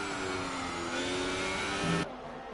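A race car engine revs in an F1 video game at the Australian Grand Prix, with a high, buzzing whine that holds steady and then climbs before cutting off abruptly, loud and close with no talk.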